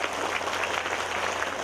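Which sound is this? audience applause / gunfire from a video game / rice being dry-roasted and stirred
audience applause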